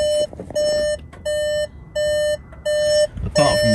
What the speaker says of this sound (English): Let's get rid of the beeping.